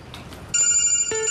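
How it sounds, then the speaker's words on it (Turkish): A telephone rings at close range with a bright electronic tone that begins abruptly midway and holds loud and steady, broken by one brief dip, after a few faint soft sounds. "Telefon çalıyor."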